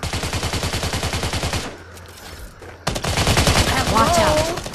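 Rapid hip-fire bursts from a gun in the video game Raider Six rattle loud and close, pausing briefly before another sustained volley.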